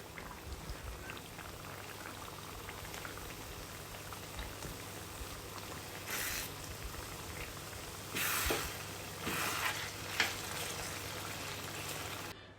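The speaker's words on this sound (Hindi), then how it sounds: "तो यहाँ मैं ये घी को गर्म कर रही हूँ।" Desi ghee heating in a pan for halwa, giving a soft steady bubbling sizzle with a few louder crackling bursts near the end, with no talk.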